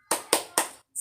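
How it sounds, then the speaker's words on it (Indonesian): A group of children does a rhythmic spirit clap, three sharp, evenly spaced claps close together followed by a quick final burst, with no talking. "Tetapi sebelumnya kita tepuk semangat terlebih dahulu."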